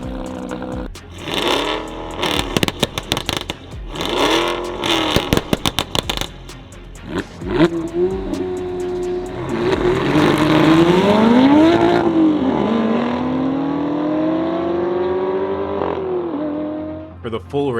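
A naturally aspirated flat-six Porsche GT3 with rear-wheel drive and a manual gearbox, revving hard and rising in pitch through a long pull, with sharp bursts and gear changes early on and talk over parts of it.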